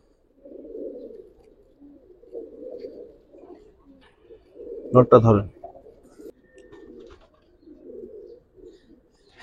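Giribaz pigeons coo softly and close in repeated low, throaty phrases, with a brief burst of a man's speech breaking in midway.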